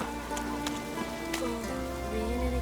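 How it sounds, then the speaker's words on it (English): Continuous rain pattering in The Witcher 3: Wild Hunt, close and steady beneath game music, with a few faint clip-clop knocks and brief taps over it. "Raining again."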